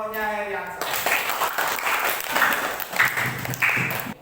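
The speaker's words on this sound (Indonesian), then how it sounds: "Beri tepuk tangan untuk kelompoknya Heriansa." Applause for a presenting group fills a classroom, a steady wash of many hands clapping at moderate loudness, with a voice speaking over part of it.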